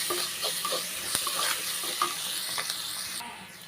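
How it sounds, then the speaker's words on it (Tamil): Onions sauté in a pan, a soft continuous sizzle broken by scraping stir strokes, moderately close and fairly quiet. "வெங்காயம் வந்து நல்லா வதங்கிருச்சு"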